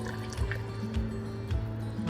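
Cornstarch slurry is poured into sauce in a pan for General Tso's chicken, a soft liquid trickle and gentle gurgling splashes with a few small plops, quiet and close.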